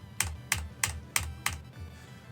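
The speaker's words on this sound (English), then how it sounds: "Trying to click my keyboard a little quieter because it's getting very annoying hearing my keyboard in editing" Five sharp, evenly spaced computer keyboard clicks, each a crisp close tap with a short thud, sounding alone in a quiet room before stopping.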